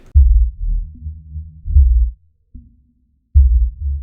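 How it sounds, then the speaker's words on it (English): Deep, muffled thumps of a kick drum with rumbling sub bass notes under a low-pass filter, low and boomy, pulsing in short phrases separated by brief gaps. "chucked a low pass filter on it to hear the sub, what the sub was actually doing"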